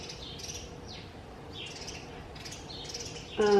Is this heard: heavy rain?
no